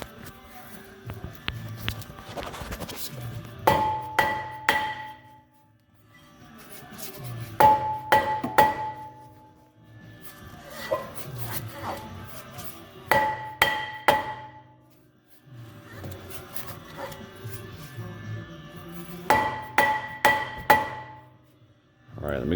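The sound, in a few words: hammering a brake rotor off a Jeep Grand Cherokee hub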